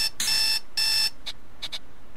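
A mobile phone rings in the video game Zero Zone, sounding as two longer electronic trilling bursts followed by several short beeps, clear and close with no talk over it.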